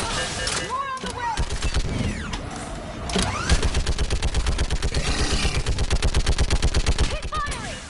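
Rapid gunfire rattles through a Mass Effect 3 battle, dense bursts of automatic shots clattering almost continuously and loud, with shouted voices and scattered effects mixed in.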